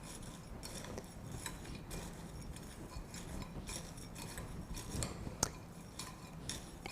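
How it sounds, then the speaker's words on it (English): Nuts being stirred together with sugar and cinnamon in a bowl make soft, steady scraping and rubbing with occasional light clinks of a utensil against the bowl, continuous and close, with no talking. "I already mixed the sugar and the cinnamon together, and then I'm just going to mix this up"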